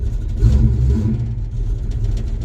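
Ford Mustang V8 just started after a radiator replacement, rumbling at a low idle with a brief rev swelling near the start before settling back to a steady, close-up engine drone.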